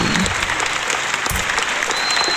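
Sustained applause from an online English-lesson audience, steady and dense for a couple of seconds with no pauses.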